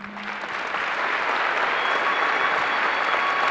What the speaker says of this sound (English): It's nice for y'all to clap when I'm in the middle of crying.